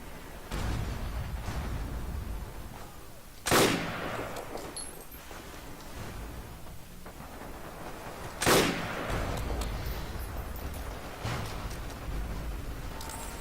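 Gunfire in the Forgotten Hope 2 multiplayer battle at Pointe du Hoc, with two loud, sharp shots standing out about five seconds apart over a constant rumble of distant firing and battlefield noise.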